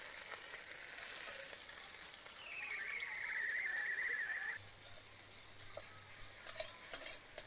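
Dried and green chillies frying with chopped onion in a pan, giving a steady soft sizzle and crackle throughout with a few stirring clicks near the end, no talking.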